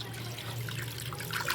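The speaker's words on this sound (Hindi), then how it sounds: "अब वॉश करती हूँ दाल।" Water runs steadily into a kitchen sink as lentils are rinsed, a soft continuous splashing trickle with a low hum underneath, close and moderately quiet, no voices.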